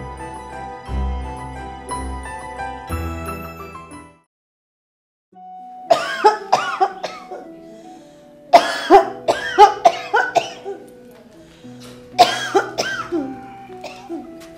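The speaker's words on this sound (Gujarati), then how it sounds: "આ ઉધરસ મટતી નથી." An ill person's lingering cough comes in three clustered bursts of several coughs each, fairly close and loud, following a stretch of background music that ends in a short silence.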